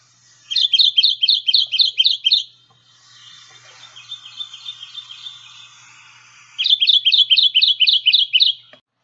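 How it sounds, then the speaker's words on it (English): Kentucky warbler singing its rolling, repeated churring phrases in two loud, rhythmic bouts of about eight notes each, separated by a fainter, softer run of song, with no talking. "So here's the Kentucky warbler's less angular, less powerful cherry, cherry,"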